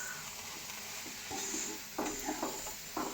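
Leafy greens stirred and fried uncovered in a pan, a soft continuous sizzle with intermittent scraping strokes of the spatula, close and quiet, no talk.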